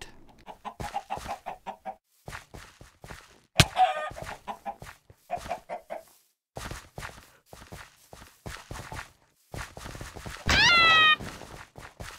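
Minecraft chickens cluck in short repeated bursts, mixed with game footsteps and thunks, loud and close, with a brief tonal game effect near the end.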